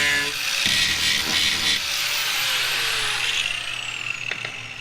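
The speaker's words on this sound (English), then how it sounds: "drill that out." A power drill bores out a section of wood flooring close up, a loud whining motor with grinding bite into the wood, then the pitch drops as the drill spins down and trails off.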